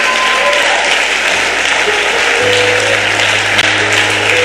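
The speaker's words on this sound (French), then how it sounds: "Can we stand up and clap your hand for the Lord?" Church congregation standing and clapping for the Lord, a dense, steady wash of applause filling the room throughout, with voices faintly mixed in.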